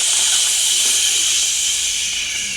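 A forceful shushing exhale from a choir breathing warm-up, one long, loud, steady hiss of breath that stays close and unbroken for its whole length.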